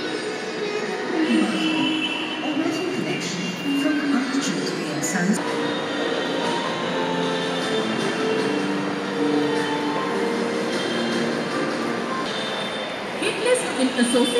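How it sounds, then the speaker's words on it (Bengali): Metro train pulling into Master Da Surya Sen station in the morning, a steady rumbling roar with rail noise running throughout, while a person talks over it. "আমার অলরেডি মেট্রো চলে এসছে"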